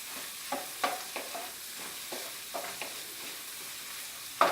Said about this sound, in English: So now I scramble my egg